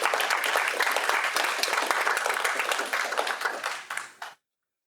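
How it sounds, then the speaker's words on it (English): Audience at a student union annual members' meeting applauds steadily for about four seconds, a dense, fairly close wash of clapping that thins out and stops abruptly. "Please give him a round of applause."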